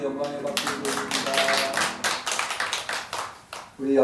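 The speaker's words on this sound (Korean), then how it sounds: "우리 하나님께 영광의 박수를 드립니다." A church congregation at a Sunday morning worship service claps in praise, a few seconds of dense, uneven hand clapping that fades briefly before a voice returns at the end.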